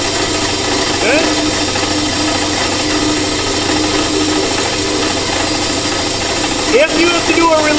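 A band saw runs steadily throughout a woodworking demonstration, giving a continuous loud whir with voices talking over it now and then.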